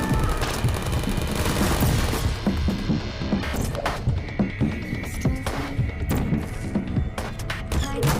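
Turrets firing in Portal with RTX, a dense, continuous rattling fusillade of rapid shots with booming low rumble, loud and close throughout, no voice heard.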